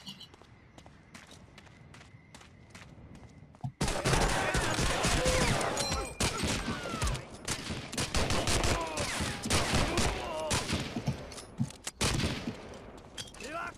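Thompson submachine gun fire in the Medal of Honor video game, loud rapid bursts repeating for about ten seconds with footsteps and other battle noise, starting abruptly after a quieter stretch.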